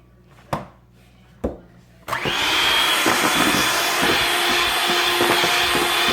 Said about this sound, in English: I'm going to mix this together before I add in the cocoa